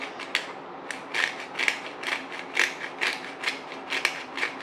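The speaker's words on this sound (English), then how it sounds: "I'm just gonna crack some black pepper right into the dressing" Black pepper is cracked in a grinder over salad dressing, a close series of about ten sharp ratcheting crunches in a quick, even rhythm, heard alone.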